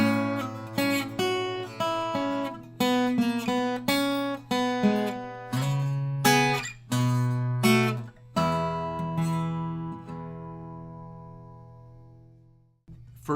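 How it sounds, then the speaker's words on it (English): Guitar plays the first part of the Amos Johnson Rag at a slow tempo, plucking distinct notes and chords in a halting, ragtime rhythm, close and clear, with the last chord left ringing to fade out. "First part of the Amos Johnson Rag played slowly."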